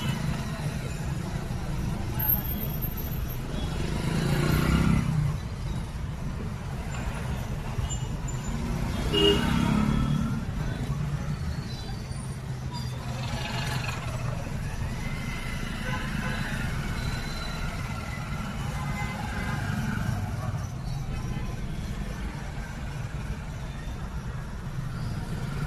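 Vehicle traffic passing on a road near a driving school in Majalgaon, a low steady engine rumble with a couple of louder swells as vehicles go by, and voices talking throughout.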